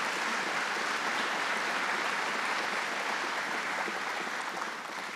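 An audience at a Governor Cuomo event announcing $30 million for an Alstom Transportation expansion claps steadily, a dense, continuous round of applause lasting the whole stretch with no voices over it.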